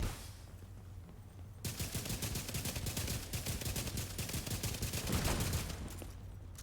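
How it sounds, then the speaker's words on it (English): Player's gun firing in The Division 2 shooter game, a rapid continuous burst of automatic shots lasting several seconds, loud and close. "I am going to shoot"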